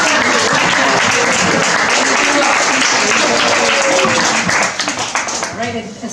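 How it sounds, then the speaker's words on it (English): Loud, dense applause from a standing audience at a conference talk on rapid avian evolution, continuous clapping that thins out near the end, with voices mixed in. "stand up and give yourself a round of applause"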